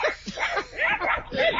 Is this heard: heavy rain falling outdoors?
no